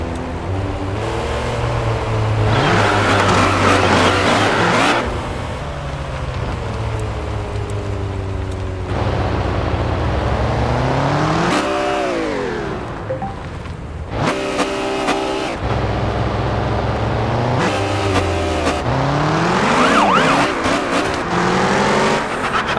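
A car sliding around in the Car Parking Multiplayer game: loud engine revving that rises and falls in pitch through repeated accelerations and gear changes, with squealing tires and brief cut-offs between bursts, no talking.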